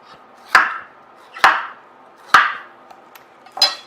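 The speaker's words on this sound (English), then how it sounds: "you want to cut up the core a little bit" A knife chops through a fruit core on a cutting board in a home kitchen, four firm, evenly spaced thuds about a second apart, close and clear with no talking.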